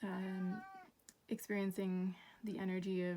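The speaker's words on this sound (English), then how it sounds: "in the background, my lovely black cat." A black cat meows repeatedly, its long drawn-out cries rising and falling close by, broken by short pauses, with a person talking softly over it.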